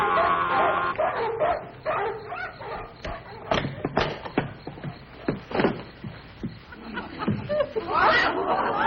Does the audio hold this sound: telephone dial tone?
no